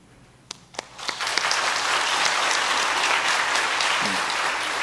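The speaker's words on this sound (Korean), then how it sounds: "박정석 안수집사님, 정영애 권사님, 잠시 자리에서 일어나실 때 우리 환영의 박수로 축복하겠습니다." Church congregation at a Sunday worship service breaking into welcoming applause, a few scattered early claps quickly building into sustained, fairly even clapping from the whole room.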